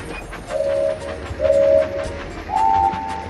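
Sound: train running on track in Lego Duplo video game

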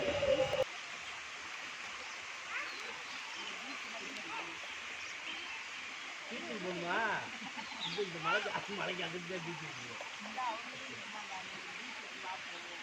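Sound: waterfall

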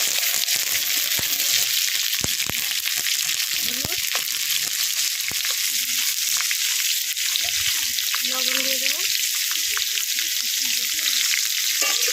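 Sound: frying shrimp in oil in a kadai

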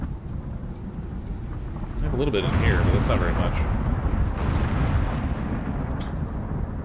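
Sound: thunderstorm in the video game Icarus

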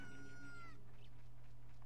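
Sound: rooster crowing in The Legend of Zelda: Ocarina of Time video game

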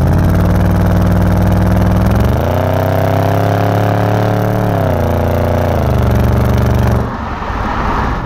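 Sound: car engine through modified throaty exhaust

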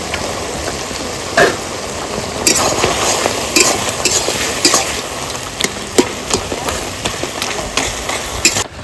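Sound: rohu fish heads frying in a pan

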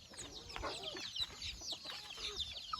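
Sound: country chickens clucking while eating drumstick leaves

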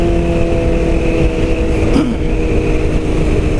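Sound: motorcycle exhaust revving

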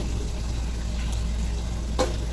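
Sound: buffalo meat added to fried spice paste, sizzling in pan

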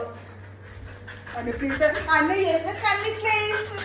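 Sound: small dog panting

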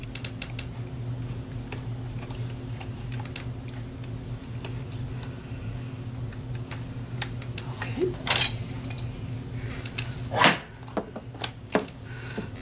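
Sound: weights slipping and clinking on a drop sleeves setup

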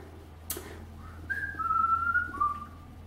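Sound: inward whistling

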